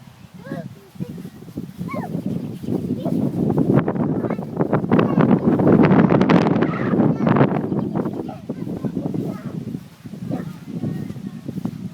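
Gusty wind at an outdoor playground with a slide as a lightning storm approaches, blowing steadily and loud across the whole stretch, swelling strongest in the middle, with a child and an adult talking over it.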